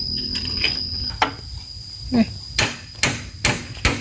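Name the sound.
hammering while building a clothes-drying rack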